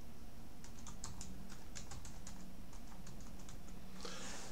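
Fingers type on a computer keyboard, entering an email address as a quick run of light key clicks, ending with a brief louder clatter, heard close up and alone.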